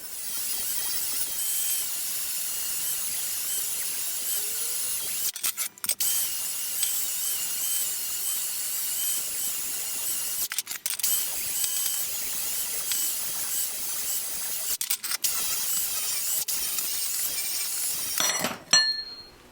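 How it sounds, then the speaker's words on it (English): A wire wheel grinds rust and dirt off metal pieces for a homemade anchor, a steady bright abrasive hiss running almost continuously with a few brief pauses as the wheel is lifted, loud and close with no talking. "I'm going to wire wheel all of these to get all the rust off and all the dirt off"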